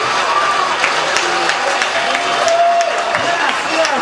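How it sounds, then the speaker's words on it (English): An open mic crowd in New York applauds and cheers, a dense wash of clapping under an emcee talking over it, close and loud throughout. "Give yourselves a round of applause for coming out."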